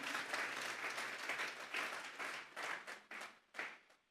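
A church congregation claps together as an offering to God, a sustained burst of many hands that thins and tapers into scattered claps toward the end, heard from a distance.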